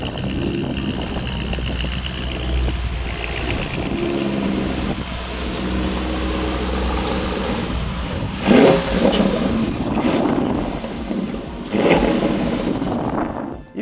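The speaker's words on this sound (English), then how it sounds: "What this sounds like with the exhaust system fitted to it" Lamborghini Urus S with a Novitec widebody kit and aftermarket exhaust, its engine droning loudly and then revving in several sharp bursts as the car turns around nearby, with no voices.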